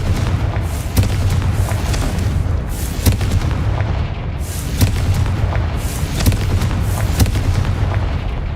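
Repeated booming blasts from the Confringo fire spell in the Hogwarts Legacy video game, sharp explosive bursts recurring about once a second over a dense, loud rumbling game soundscape.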